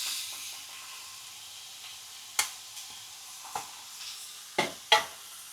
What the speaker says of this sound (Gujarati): થોડી વાર આપણે સાતળી લેવી આવી રીતે, એટલે સરસ ડુંગળી પણ થઈ જાય.